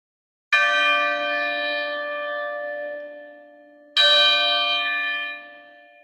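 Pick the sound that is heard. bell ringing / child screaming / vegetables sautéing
bell ringing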